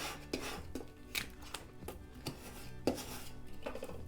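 Transfer tape being scraped down onto chalkboard vinyl with a tool: a series of short, fairly quiet rasping strokes repeating at an uneven rhythm, close up, with no talk.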